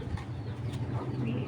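A red checker racing pigeon cooing softly up close, low murmuring coos over a steady background.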